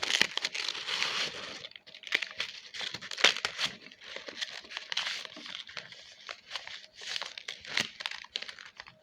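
Sheets of paper being creased and folded for a handmade paper katana, giving steady close crinkling and crisp rustles in quick bursts throughout, with no talking.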